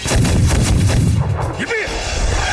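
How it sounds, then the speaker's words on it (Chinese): Gunfire in a wartime battle scene from an anti-Japanese war film, loud booming shots and blasts in quick succession under shouting, close and dense, with some voices heard. "那个狡猾的赵振天，开火！"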